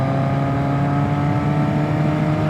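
Yamaha Maxim 700 four-cylinder motorcycle engine holds a high, smooth rev, a continuous close whirring drone with steady tonal bands and no talk.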